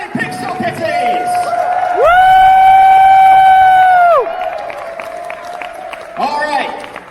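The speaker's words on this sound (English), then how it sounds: "Round of applause for the one and only Pixel Kitties!" A charity auction crowd applauds and cheers while a loud air horn blares for about two seconds, with a shorter horn blast later and steady crowd noise throughout.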